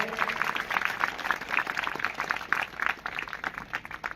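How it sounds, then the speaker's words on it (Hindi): Villagers clap warmly to welcome guests at a cowshed courtyard during a religious katha gathering, a steady scattered patter of many hands, moderately distant and fairly quiet, with no voices over it. "आए हुए अतिथियों के लिए जोरदार तालियों से स्वागत करें"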